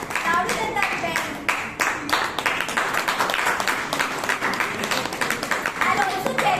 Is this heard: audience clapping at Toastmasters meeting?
yes